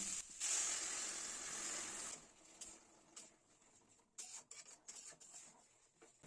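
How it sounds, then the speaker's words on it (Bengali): Boiled water poured from the side into a pan of cooked chhana curry, with ash gourd and coconut, giving a loud hissing, sizzling gush for about two seconds before easing into a quieter simmering bubble. "পাশে ফুটিয়ে রাখা জলটা এখন আমি দিয়ে দেবো।"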